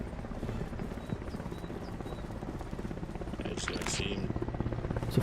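A helicopter in the DayZ video game, Chernarus map, flying overhead with a steady low rotor thrum that grows slightly louder toward the end, under a player's talk.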